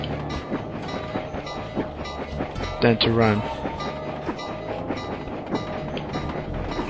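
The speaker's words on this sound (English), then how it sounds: "gotta watch out for this train, but you can use it to get around quicker." A train in the video game Sly 2 rumbles along steadily with a rhythmic rail clatter, a brief louder burst near the middle, while someone talks over it.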